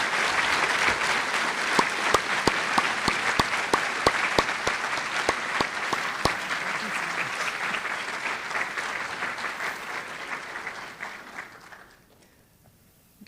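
Loud sustained applause from an audience at a university white coat ceremony welcoming a speaker, dense clapping with sharp individual claps standing out, holding steady for about eleven seconds before dying away quickly.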